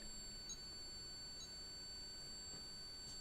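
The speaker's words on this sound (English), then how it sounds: "Hear the beep?" Faint electronic beeps sound in a quiet room. Short, high tones repeat at irregular intervals over a thin, steady whine, with no talking.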